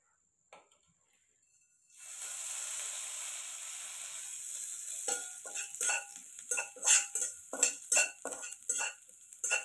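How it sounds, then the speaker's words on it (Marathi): Sesame seeds roast in oil in a pan on a wood-fired stove, a steady close hiss that turns into crackling pops and spoon taps against the metal for the last few seconds, with no voices. "तीळ छान लाल होईपर्यंत भाजायचे"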